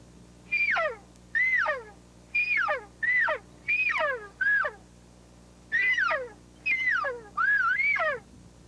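A call imitating an elk cow: nine short, high mewing whistles that rise then drop, evenly spaced in a loose rhythm and loud and close.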